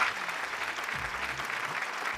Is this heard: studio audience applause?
yes